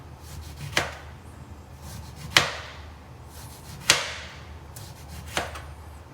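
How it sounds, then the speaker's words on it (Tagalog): Knife peeling an orange in a home kitchen while preparing fresh carrot and orange juice: four sharp, separated cutting strokes about every second and a half, close and fairly quiet over a low room hum, no talking. "Paano magbalat ng orange ganito mga Erin Banbanon para hindi siya sayang"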